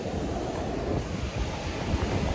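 Atlantic Ocean surf washing ashore at Flagler Beach, Florida, a steady broadband roar of breaking waves with wind buffeting the microphone, loud and continuous with no voices.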